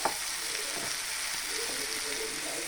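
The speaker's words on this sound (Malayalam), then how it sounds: "നമുക്ക് ഇളക്കി കൊടുക്കാം." Food in a hot, smoking pot being stirred after long cooking, with a soft continuous sizzle, a single sharp clink at the start, and faint scraping movements later on.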